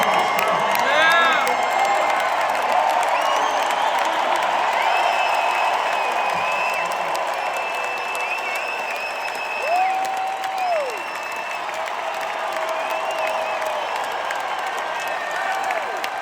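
A large crowd at a political rally in Glendale, Arizona, claps and cheers loudly and steadily, with whoops and shouts rising over the sustained applause and a voice carrying briefly through the noise.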